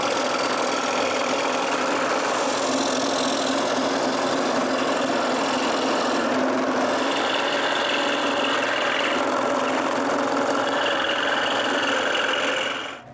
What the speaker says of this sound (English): with the scroll saw, I cut the puzzle's shape